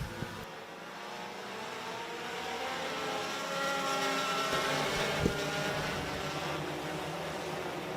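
Sport compact race cars pull away at a green-flag start on a short oval. Their engines blend into a steady, moderately distant drone that swells gradually, with a brief knock near the end.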